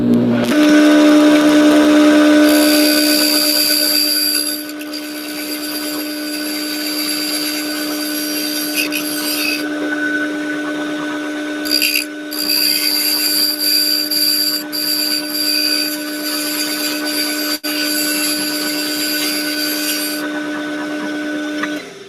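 A wood lathe spins as a turned piece gets its finish trim, giving a steady motor whine with a strong sustained tone and bursts of cutting noise that start, stop and resume.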